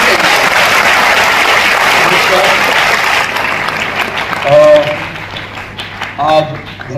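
Audience applause at the music launch event for the Marathi film Dharmveer 2, a dense, loud burst of clapping that fades after about three seconds as a voice speaks over the thinning claps.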